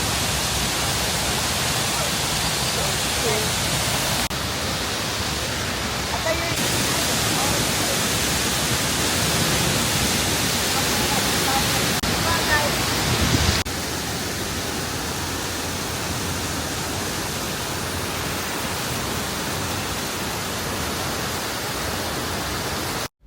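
A waterfall in Costa Rica rushes in a constant, dense roar of falling water, loud and unbroken throughout, with no voices.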